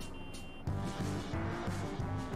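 A vehicle in Farming Simulator 22 sounds its reversing alarm, a steady run of evenly spaced electronic beeps over a constant engine drone.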